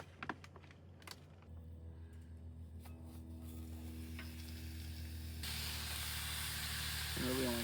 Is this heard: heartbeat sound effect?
no